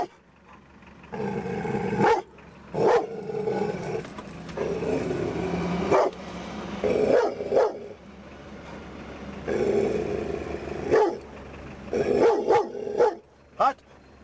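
Dogs bark and yip in sharp repeated bursts during a dog training session, loud and close, with people talking between and under the barks.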